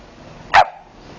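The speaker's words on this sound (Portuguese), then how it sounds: "O cachorro." A single short, loud bark from a nearby dog, clear against a quiet room.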